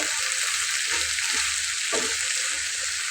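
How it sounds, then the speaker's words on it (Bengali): Okra frying uncovered in a pan gives a loud, close, continuous hissing sizzle with faint low knocks of stirring underneath, with no talking. "এবার আমি আলাদা করেই ভেজে নেব"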